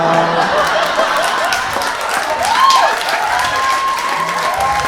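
Audience applause fills a comedy show, a steady dense wash of clapping mixed with some cheering and laughter, loud and sustained throughout.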